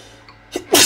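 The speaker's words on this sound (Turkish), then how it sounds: "Vallahi video çekerken de insan hapşırabiliyor arkadaşlar" A single person sneezes sharply and close by, a short in-breath followed by a loud burst, alone with no talk.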